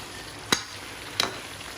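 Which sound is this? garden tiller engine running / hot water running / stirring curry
stirring curry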